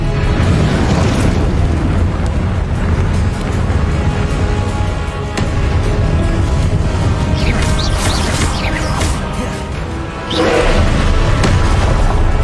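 Confringo and Expelliarmus spell blasts in Hogwarts Legacy on PS5 come through as loud, dense booms and crashes. Repeated impacts stack over a thick, continuous game soundscape.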